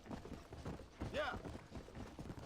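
A horse gallops in the Red Dead video game, its hooves clopping in a quick, steady rhythm beneath a voice.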